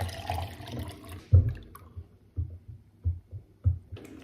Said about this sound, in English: Now we're adding in more water.